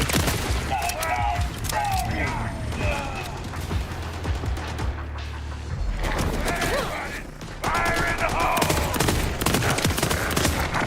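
Pistol fire in Borderlands: sharp shots crack in quick clusters over a busy backdrop of game effects and mechanical clatter, with a short lull midway before another volley, close and loud.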